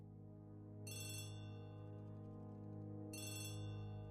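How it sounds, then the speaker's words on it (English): A telephone rings twice inside a Poirot mystery video game, each burst a bright electronic trill lasting about a second, separated by a pause over a steady low background hum. "That was a phone ring?"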